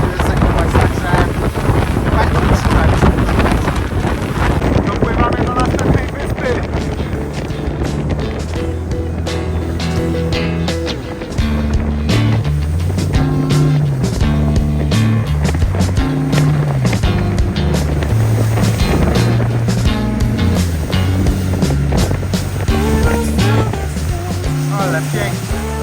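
A private boat cruises over open water in Vietnam, with heavy wind buffeting the microphone and a constant rushing roar, while tonal sounds like music and faint voices run underneath.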